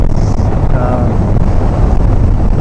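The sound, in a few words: strong wind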